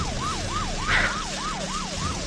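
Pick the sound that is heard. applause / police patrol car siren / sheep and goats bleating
police patrol car siren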